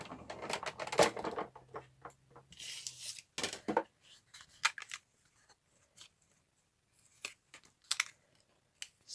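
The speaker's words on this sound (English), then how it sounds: "So I'm putting this through my die cutting machine now." A paper die cutting machine cranking a sheet through produces close, faint crunching and clicking bursts in irregular clusters, separated by quiet gaps, with no talking.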